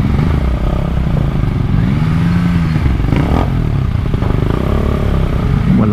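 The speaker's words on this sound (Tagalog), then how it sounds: "Sarap pakinggan ng makina ni MT-09." A Yamaha MT-09 motorcycle engine runs loud and close with a deep, throbbing rumble and a brief rise in pitch as it revs, heard alone without speech.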